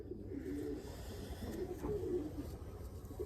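Racing pigeons just back in a home loft after a race give low, soft cooing, steady and close, over a constant background hum.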